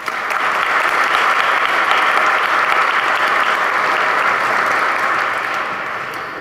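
An audience at a Marion County, West Virginia chamber of commerce dinner claps in steady, dense applause that fills the room and fades slightly at the end.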